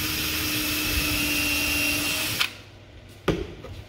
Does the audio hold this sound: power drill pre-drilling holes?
yes